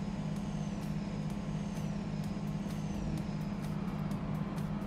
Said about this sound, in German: das hört sich gerade sehr gut an, wenn die Autos an einem so vorbeifahren